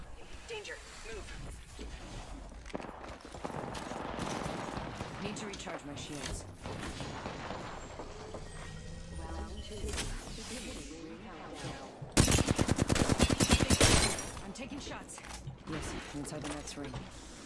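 Gunfire in the Apex Legends battle royale game, mixed with dense in-game clatter and impacts, peaking in a loud two-second burst of rapid automatic shots near the end, with a voice talking over parts of it.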